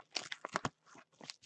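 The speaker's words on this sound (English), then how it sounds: "Let me get the knife up on there. I want to cut the case." A knife cutting open a plastic trading card case makes a quick run of close, crisp crunches and crackles in short bursts, with brief pauses between them.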